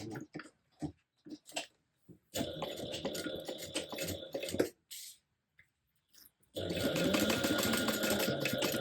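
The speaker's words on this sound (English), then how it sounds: "go ahead and stitch those down at a 1/4 inch seam allowance." A sewing machine stitches a fabric gusset panel seam: a few short bursts of stitching, then two longer runs of rapid, rattling mechanical whirring up close.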